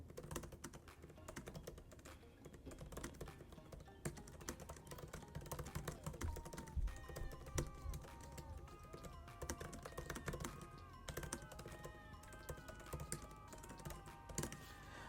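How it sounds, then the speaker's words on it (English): Quick, irregular clicking of an M1 Pro MacBook Pro keyboard being typed on, close and fairly quiet, with faint music playing in the background. "listen to what it sounds like when I hit the keys"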